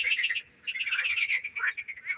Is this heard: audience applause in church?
no